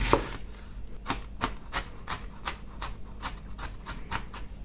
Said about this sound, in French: Donc je découpe mon demi-oignon.